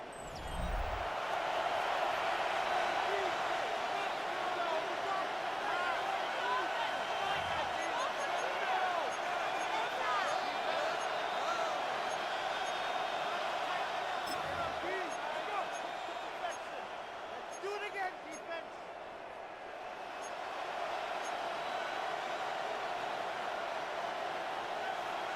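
A stadium crowd in an EA Sports NFL video game keeps up a steady, dense roar, with a few low thuds, holding loud for the whole stretch before easing slightly near the end.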